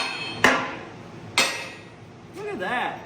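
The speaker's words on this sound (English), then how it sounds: "I'm gonna need my hammer." A hammer strikes a scrap-metal suspension part on a Grumman van twice, each blow sharp and metallic with a ringing tail, followed by a short burst of nearby voice.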